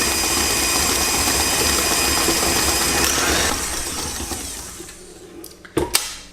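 An electric whisk mixes yogurt and blueberry muffin batter with a steady, close whir that winds down after a few seconds, followed by a couple of sharp clinks.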